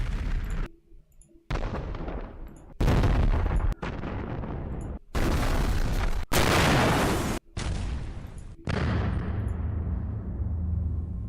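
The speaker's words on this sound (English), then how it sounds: "We need zombie explosion. So this one, organic explosion." A series of organic explosion sound effects for a zombie game, separate loud booms and bursts of varying length with abrupt cuts between them, the last one fading out in a long rumbling tail.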